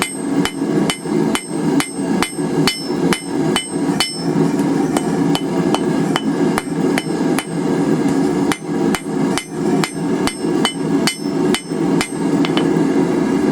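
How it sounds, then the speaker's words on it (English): A hammer striking wrought iron on an anvil to forge a twisted bar flat, loud ringing blows in a steady rhythm of closely spaced strikes with a short break midway, heard close with no talking. "We're just going to go ahead and start forging our twist stuff flat."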